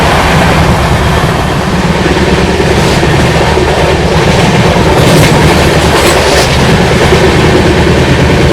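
An Okha Vande Bharat Express train runs at speed on the rails, a loud, continuous roar with rhythmic clickety-clack from the wheels throughout.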